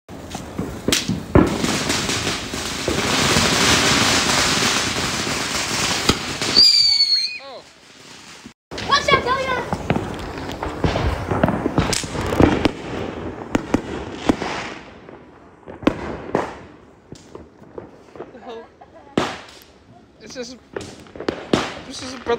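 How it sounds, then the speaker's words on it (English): A Breath of Fire firework goes off at a Fourth of July gathering, a loud, dense hissing spray lasting several seconds, followed by scattered cracks and pops while people shout and exclaim nearby. "This is a breath of fire."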